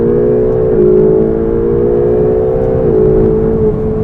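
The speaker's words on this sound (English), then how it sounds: "So we're in race mode, left foot on the brake, first gear, press the launch button, you can hear it" Ferrari 488 GTB doing a launch-control start in race mode, a loud steady engine roar that climbs through the gears with two audible upshifts, heard from inside the car with no talk.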